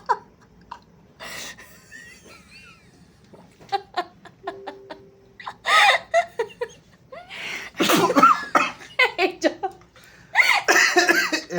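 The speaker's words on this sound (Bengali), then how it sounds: "তুমি মুখ থেকে সমস্ত জল ফেলছো কাশি দিয়ে।" Someone coughs and sputters with water held in the mouth, giving wet, spluttering bursts in short irregular clusters, mixed with laughter from people nearby.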